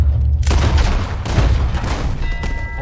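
Gunfire in Red Dead Redemption 2 rings out as a dense burst of loud, close shots over a low rumble, continuing for nearly three seconds.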